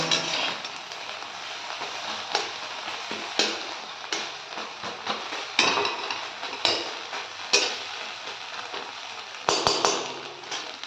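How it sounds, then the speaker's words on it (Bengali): Eggs fry in a pan with a steady, bright hiss, broken by frequent sharp ticks and scrapes of a utensil against the metal, close and fairly loud with no talking. "ডিম ভাজা কমপ্লিট"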